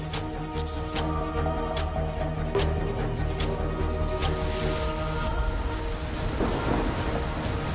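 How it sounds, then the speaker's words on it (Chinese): Heavy rain pours steadily onto surfaces while thunder rumbles and cracks throughout a thunderstorm, loud and close, with no voices. "在下雨啊！"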